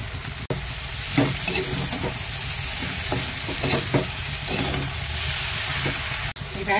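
Banana flower curry with spices and fried lentil fritters is stirred in a pan. Steady close sizzling runs throughout, punctuated by rhythmic spatula scrapes and two brief cuts.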